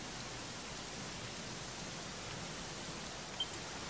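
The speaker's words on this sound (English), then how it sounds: "it was raining like this" Steady rain falls in Dragon Quest XI, an even hiss of drops spread across the whole clip with no breaks, alone and with no voices.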